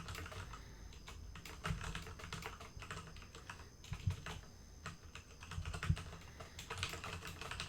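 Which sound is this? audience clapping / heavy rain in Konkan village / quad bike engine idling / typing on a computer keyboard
typing on a computer keyboard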